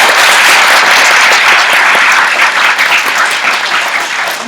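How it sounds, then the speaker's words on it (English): An audience applauds election winners at a student association officer elections event, steady dense clapping filling the room from start to finish and tapering slightly at the end. "Can we give one big round of applause for all of our candidates who won."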